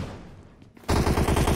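A burst of automatic gunfire in PUBG Mobile bursts in loud and close after a quiet lead-in, as rapid, evenly spaced shots run to the end.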